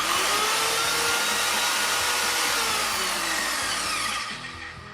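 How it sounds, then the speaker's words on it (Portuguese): An Evolution R185 CCSL circular saw spins freely without cutting, a loud, high, steady whine held for several seconds before the motor cuts off and the blade winds down quickly. "Antes ainda de utilizar a máquina a cortar, vamos ouvir o ruído que ela faz."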